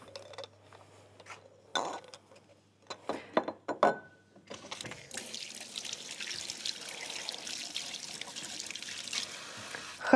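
Eggs being washed under a running tap, with water streaming and splashing continuously for most of the clip after a few short clatters and knocks near the start; no one speaks.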